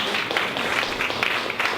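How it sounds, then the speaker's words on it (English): Short burst of audience applause at a public relations talk, dense steady clapping filling the room for under two seconds. "let's give Christy one more round of applause."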